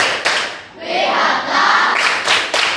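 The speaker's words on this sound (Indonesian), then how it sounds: "Silakan kasih tepuk hebat kepada teman kita ya" A sixth-grade class at an elementary school in Cimahi bursts into lively group applause, with loud rounds of clapping that rise and fall over a couple of seconds and some crowd noise mixed in.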